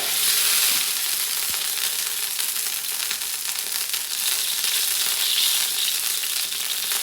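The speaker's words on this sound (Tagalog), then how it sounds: "Painitin mo natin maglagay tayo yung sibuyas, magigisa tayo." Onions being sautéed in hot oil for chicken sotanghon give a loud, dense, continuous sizzle that stays steady from start to finish, close up with no talking.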